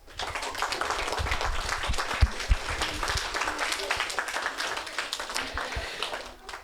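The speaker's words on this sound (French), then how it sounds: "j'aimerais bien qu'on les applaudisse" An audience claps steadily for the parents at a children's municipal council installation, a dense applause lasting several seconds with a few louder sharp claps standing out.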